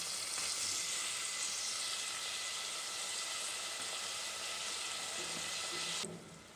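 Onions and tomatoes fry in a pan for tomato rice, giving a soft, steady sizzle that stops abruptly just before the end.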